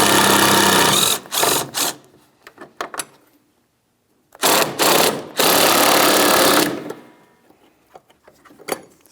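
Two 8mm bracket bolts on a Ford Edge radiator fan module being backed out with a ratchet, loud close bursts of rapid mechanical whirring in several short runs separated by pauses.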